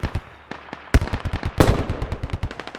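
Rapid bursts of gunfire in the tactical shooter game Squad, with close, sharp overlapping shots crackling in quick rhythmic volleys and no voices over them.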